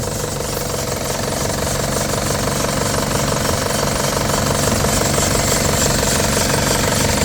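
A loud, steady diesel engine of an Isuzu D-Max four-door pickup runs close by, its rough, rattling clatter continuous and unchanging throughout.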